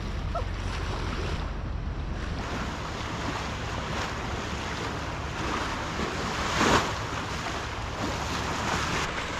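A sailboat motoring along the Alaska coast through a strong tidal current, with churning water and surf-like wave noise rushing steadily close by, mixed with gusty wind buffeting the microphone.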